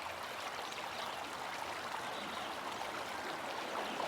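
A small creek flows steadily where smallmouth bass are fished, a soft, even babbling hiss of running water, close and unbroken, with no voices.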